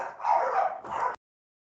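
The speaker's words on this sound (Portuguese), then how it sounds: "Ô, cachorrada." Several dogs bark and yip in a quick, fairly close burst lasting about a second, with a short pause before a second flurry, then silence.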